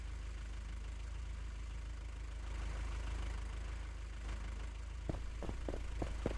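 A car engine turns over and settles into a steady low idle, a faint continuous hum with a few short knocks or clicks near the end; no talking.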